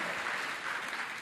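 Comedy audience applause at a free stand-up show at the Millennium Stage, a steady broadband wash of many hands clapping, continuous and moderately loud throughout with no voices.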